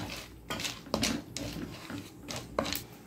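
Chocolate and popcorn being stirred together in a pan, with a spoon scraping and clinking against the metal in irregular strokes, a few sharper knocks standing out, close and fairly quiet, no voices.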